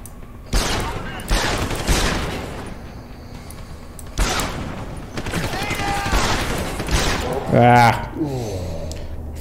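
Gunfire in the game Deus Ex: Human Revolution comes in loud bursts, one early salvo and another after a pause. Tonal game effects and a short sharp sound near the end follow the shots, and no speech is heard.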